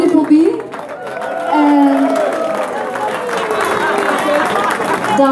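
Applause and crowd noise fill an end-of-year dance party after a band performance, rising midway and continuing under steady talk and chatter from voices nearby.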